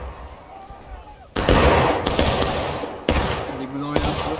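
Video game gunfire, with heavy bursts that kick in abruptly and then sustain loud, rattling shots alongside battle noise, and a faint voice is audible at points.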